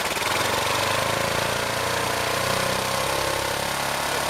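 Kawasaki KLR motorcycle engine running steadily at a fast idle, a dense continuous mechanical drone with rapid firing pulses, held close and loud throughout with no clear rise in pitch.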